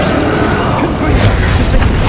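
A Confringo blasting spell in Hogwarts Legacy erupts in a heavy, rumbling explosion that fills the short moment with a dense, booming roar.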